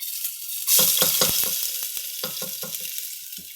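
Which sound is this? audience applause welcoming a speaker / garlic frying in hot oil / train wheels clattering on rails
garlic frying in hot oil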